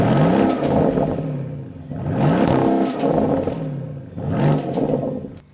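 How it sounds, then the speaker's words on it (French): A car engine revs up three times in succession, each rise swelling loud and close before dropping back toward idle. "je vous fais écouter un petit peu la sonorité de ce moteur."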